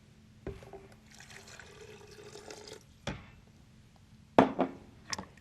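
Water pours softly into a container holding dill, olive oil, maple syrup and avocado for a salad dressing, followed by a few sharp knocks and clunks of handling near the end.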